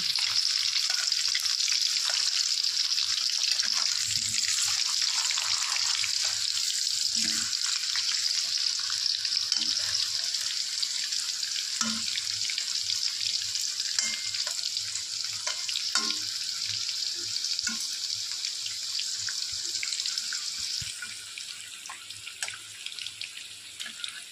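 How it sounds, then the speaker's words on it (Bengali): Potatoes fry in a pan over a low gas flame, giving a steady soft sizzling hiss throughout, with faint occasional clinks and no talking. "আলুগুলো ভাজা হচ্ছে, একটু গ্যাসের সিমটা আমি লো করে নিয়েছি যাতে আলুগুলো ভালো করে সেদ্ধ হয়ে যায়"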